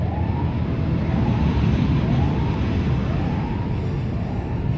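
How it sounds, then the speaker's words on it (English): A loud wailing siren on an amusement park ride at Six Flags Discovery Kingdom cycles up and down steadily over a dense rumble of background noise. "there's a siren for the Joker"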